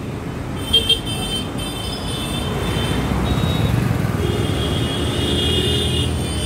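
Evening road traffic near Prahlad Nagar Garden in Ahmedabad makes a steady roar of passing vehicles, with a brief car horn toot early on and the rumble swelling a little in the second half.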